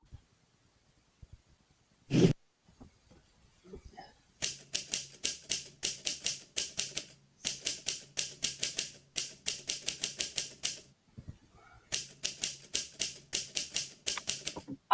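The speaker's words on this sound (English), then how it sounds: "I too like to type without touching the keyboard." Cartoon keyboard typing comes in rapid, crisp clacking bursts with short pauses between them, fairly close and clear, after a brief thump near the start.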